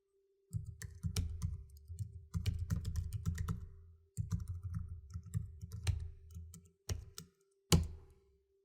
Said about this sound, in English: Next, you type in your identity password.